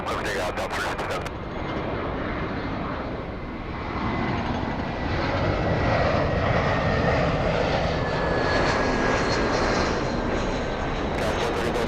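An airliner takes off from runway 24 left at LAX, its jet engines a steady, broad roar that builds slightly, with a voice talking over it.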